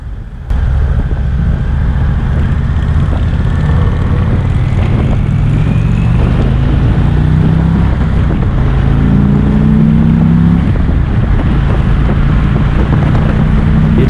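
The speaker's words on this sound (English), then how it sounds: "Pay attention to the engine note that this thing puts out when you really get on it." A 2020 Indian Chieftain Limited 116 motorcycle engine pulled hard under heavy throttle, a loud throaty drone rising in pitch through the gears, buffeted by strong wind noise on the microphone.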